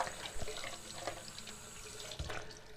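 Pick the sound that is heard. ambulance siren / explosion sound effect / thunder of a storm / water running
water running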